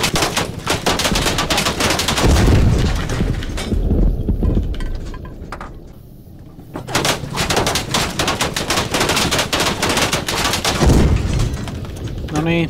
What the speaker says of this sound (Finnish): Noniin, nyt se räjähti.